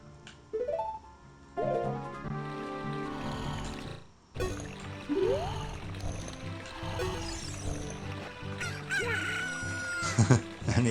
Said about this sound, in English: what we need to do to wake him up is get our chicken